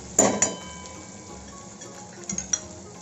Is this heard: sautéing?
yes